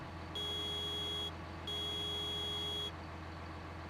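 Two long, steady electronic horn blasts, each about a second, over a constant low engine rumble, sounding loud and close: the horn of a TLX9000 rigid-body tractor in Farming Simulator 19.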